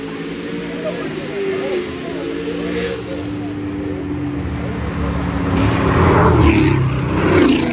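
A car engine revs and rumbles loudly at a street car meet, its steady drone swelling toward the end with crowd noise around it and people talking.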